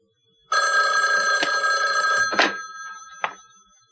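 An old-style telephone bell rings loud and close in one sustained burst, cut off by a clatter as the handset is picked up, followed by a single short knock.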